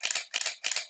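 A DSLR camera shutter fires three times in rapid succession, crisp mechanical clacks close to the microphone, each a short bright burst with brief gaps between.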